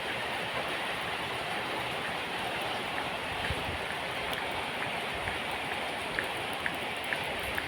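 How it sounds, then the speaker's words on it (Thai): Steady rainfall hissing evenly, with occasional sharper drips standing out against the constant wash of sound; no one speaks. "ในวันที่ฝนตก"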